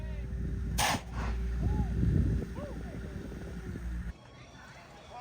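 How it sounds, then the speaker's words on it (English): A single loud, sharp blast from a pumpkin cannon at a pumpkin patch rings out near the start, followed by a brief echo, with people chatting and outdoor bustle continuing around it. "We've seen these pumpkin cannons in other ranches, but this is pretty cool."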